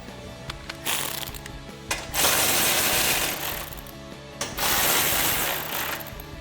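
A ratchet wrench drives bolts into a bracket for a step bar on a 2005-2023 Toyota Tacoma. Loud, rapid clicking comes in short bursts and then long sustained runs, close up, with no talk.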